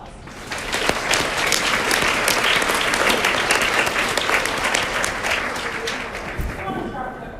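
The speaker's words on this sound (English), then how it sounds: "Let's give them a round of applause" Sustained, full audience applause at a political campaign event in New York, a dense, even roar of clapping lasting several seconds and tapering slightly at the end.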